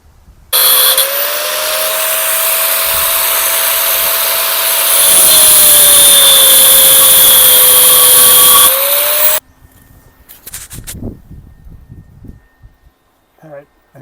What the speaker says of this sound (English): So I'm going to cut this bend off, and then I'll cut this off right here.